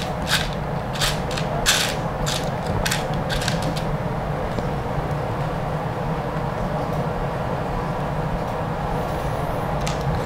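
Small 12mm screws are driven into the plastic of a Tamiya Comical Grasshopper model kit, with repeated short creaks and clicks from the screwdriver over a steady low background hum. No one speaks.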